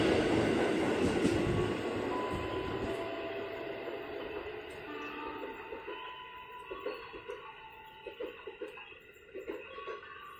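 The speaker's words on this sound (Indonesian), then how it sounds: "berangkat dari jalur 1 komuter lain tujuan" A KRL Commuter Line electric train pulls out of Depok Baru station toward Jakarta Kota. A loud, close rumble fades steadily, leaving thinner rail tones and a few soft clunks near the end.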